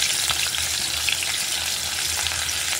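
Onions frying in a pan with green chillies for egg and potato curry, a loud, continuous close sizzle with faint stirring underneath and no talking.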